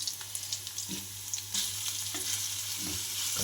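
Grated raw mango frying in a pan for mango chutney, a steady close hiss of sizzling oil with faint stirring scrapes throughout, growing a little louder partway through.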